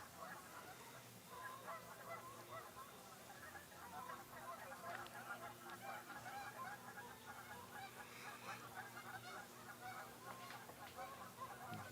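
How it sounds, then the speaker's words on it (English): Geese honk repeatedly in a park at night during a 100-mile ultramarathon, a busy chorus of overlapping calls from a flock at middle distance over a low hum. "Really starting to hear the geese"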